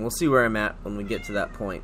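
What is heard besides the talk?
cat meowing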